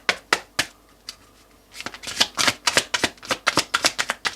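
A tarot deck is shuffled up close in rapid, crisp riffling bursts. The first few flicks are sparse, then a dense run of card snaps follows.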